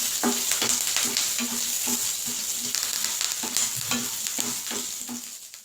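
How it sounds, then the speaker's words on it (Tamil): Black pepper, cumin seeds and curry leaves dry-roasting in a pan, with a steady close sizzle and repeated rhythmic scrapes of a spoon stirring through the spices. "இப்போ நம்ம 1 ஸ்பூன் மிளகு, 2 ஸ்பூன் ஜீரகம் ஆட் பண்ணிக்கிறேன். கூடவே கொஞ்சம் கருவேப்பிலை. இது எல்லாமே நல்லா வறுத்துக்கலாம்."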